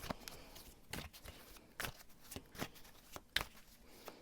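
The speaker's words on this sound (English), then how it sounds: "But I'm going to shuffle a little bit more about why this person turned against you." Tarot cards being shuffled by hand: soft, irregular riffling snaps and flutters in short bursts, fairly quiet, with no talking.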